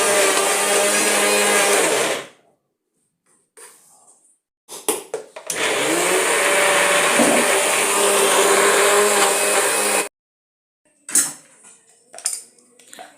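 A kitchen mixer grinder grinds soaked lentils in loud continuous bursts of harsh motor whine, about two seconds, then four and a half seconds, separated by silent pauses and brief clattering handling of the jar, with no talking.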